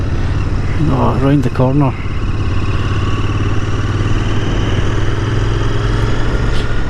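A Royal Enfield Interceptor's exhaust pipes give a steady, throaty engine drone while the bike is ridden, close and continuous, with someone talking briefly over it near the start.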